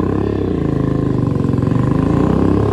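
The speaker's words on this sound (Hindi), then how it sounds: "बाइक की आवाज ही इतनी मस्त लगे आगे।" A loud motorbike engine throbs and revs up close, a deep pulsing rumble throughout.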